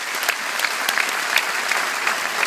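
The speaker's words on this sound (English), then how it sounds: "why not give them a round of applause as well" Audience applause at a citizenship oath-taking ceremony in Dublin, a steady dense wash of many hands clapping at even loudness throughout, with no talk over it.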